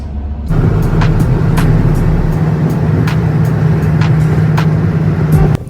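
A bus engine drones steadily from inside the passenger cabin on a ride into a Tehran terminal, a continuous low hum with road rumble and a few faint clicks, no voices.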